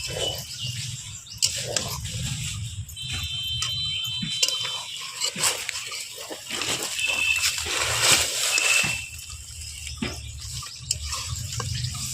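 Water is poured into a pan of frying chicken curry masala, producing a steady sizzling hiss and splashing that runs throughout, with brief bubbling bursts and faint clatter in a home kitchen.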